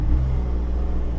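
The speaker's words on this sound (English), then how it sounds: "I'd say we've got a slight blow on the exhaust as well." Car engine idling with a steady low rumble and a raspy, slightly blowing exhaust note, continuous and close throughout.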